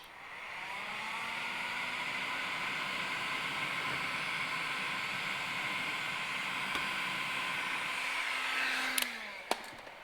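Heat gun blowing steadily on TeckWrap Hunter Green vinyl on a Lexus RC F rear bumper, a loud continuous hiss and whine for about nine seconds before it cuts off, followed by a couple of sharp clicks.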